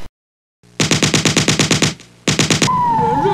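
Rapid video-game gunfire in two loud bursts, the first a string of about ten evenly spaced shots, then a short pause and a second burst, followed by a sweeping electronic tone.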